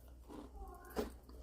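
A quick crunchy bite into a homemade fried onion ring, one soft crisp crunch heard close and quiet over faint background noise.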